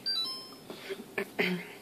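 A few short electronic beeps from an LG GSB325PVQV fridge freezer's child lock, quiet and spaced apart, with a faint high tone at the start.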